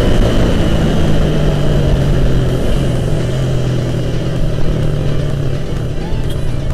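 Motorcycle engine revving hard on a busy street during an informal drag run against other bikes, a loud steady drone with a low rumbling hum throughout, wind noise heavy over it.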